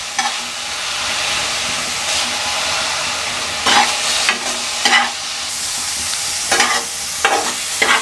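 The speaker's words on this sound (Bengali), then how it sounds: "আমি একটু সরিষার তেল দিয়ে এটাকে ভালোভাবে ভেজে নিচ্ছি" Bottle gourd leaves fry in mustard oil in a pan, giving a steady loud sizzle throughout, broken by several brief scraping bursts as the leaves are stirred and pressed down against the pan.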